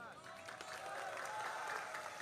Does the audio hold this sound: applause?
yes